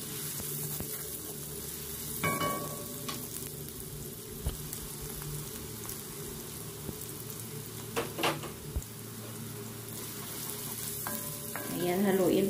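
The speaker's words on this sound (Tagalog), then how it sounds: "Ayan, haluin pati yung mga nasa gilid guys." Pancit canton noodles with vegetables and onion frying in a pan while being stirred, a continuous close sizzle with occasional clanks and scrapes of the utensil, no talk heard.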